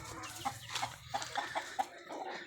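An imported Boston gamefowl rooster clucks in a run of short, soft calls spaced roughly evenly, fairly close and moderately faint, over low background rumble.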